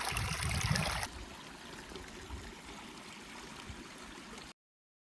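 Stream water trickling and gurgling beside a Mount Shasta trail, a loud close rush for the first second, then a softer steady trickle that continues until it cuts to silence.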